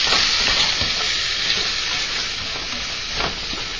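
Shrimp pan-seared in a hot pan give a loud, steady, close sizzle that hisses continuously throughout, with no voices.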